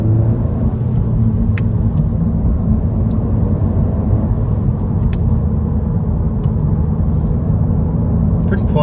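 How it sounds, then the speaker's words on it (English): Steady low rumble inside a 2023 Honda Civic Si cabin while driving, with a soft, constant hiss of wind noise and a few faint ticks above it. "You hear a tiny bit of wind noise, very limited road noise."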